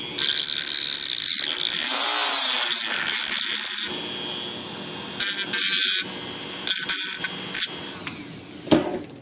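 Hobby tool cutting away the last piece of tail from an E-flite Apprentice S 15e foam model airplane: a buzzing, grinding cut that runs continuously, then breaks into short separate bursts, heard up close with no talking.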